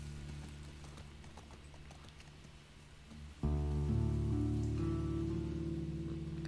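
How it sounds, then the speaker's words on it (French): Horse hooves clip-clop steadily in The Last of Us Part II while rain patters on surfaces, the hoofbeats fairly close over a constant wash of rainfall that swells louder partway through. "On commence avec des chevaux tout de suite."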